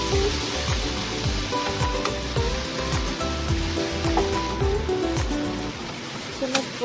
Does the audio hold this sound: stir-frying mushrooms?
yes